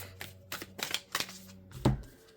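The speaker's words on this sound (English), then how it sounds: "let me just shuffle these again quick" A close run of quick card shuffles, a series of crisp flicking riffles and then a heavier slap at the end.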